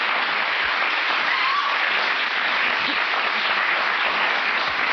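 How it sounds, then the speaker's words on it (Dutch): Studio audience on a Dutch TV quiz show applauds for a contestant, a full, even roar of clapping sustained at steady volume, with a few low thumps underneath. "Dames en heren, een applaus voor Rob Laarhoven"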